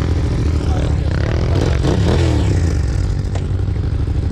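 A motorcycle engine starts and runs, a loud rough continuous rumble with clattering mechanical noise and a brief rise in revs, heard close up without speech.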